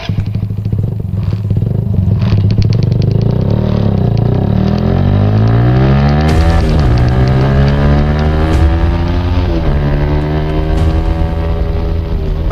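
A habal-habal motorcycle taxi engine revs loudly and continuously during a chase, its pitch sweeping up and down repeatedly as the rider accelerates and shifts, close and dominant throughout.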